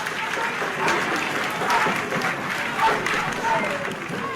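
A room of people claps steadily for MP-elect Alfred Thompson just after he takes the parliamentary oath, a dense, even patter of applause with voices mixed in throughout.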